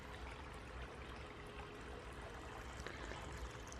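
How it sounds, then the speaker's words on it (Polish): Water from a solar-powered pump trickles steadily into a pool outdoors at sunset, a soft continuous splashing and dribbling with no talk. "Woda się sączy, bo to jest na światło słoneczne to pompa"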